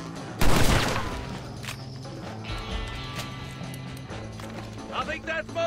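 A single loud shotgun blast in Red Dead Redemption, near and sharp, followed by quieter game ambience with hoofbeats and scattered rattles.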